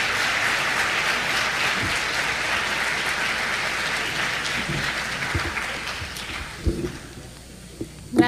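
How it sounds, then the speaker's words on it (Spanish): Conference audience applauding steadily for several seconds in a large hall, dense sustained clapping that thins out near the end as a few last claps trail off. "pido para ambos un fuerte, caluroso y verdadero aplauso"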